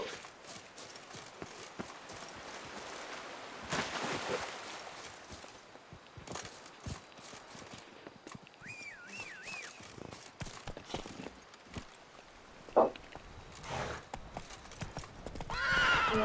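Roach, Geralt's horse in The Witcher 3: Wild Hunt, gallops with rapid rhythmic hoofbeats and lets out a clear whinny partway through, amid game ambience, with no voices.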